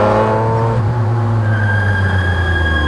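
A McLaren engine roars at close range under strong acceleration, the tone dropping then rising into a high sustained whine, loud and continuous with no talk.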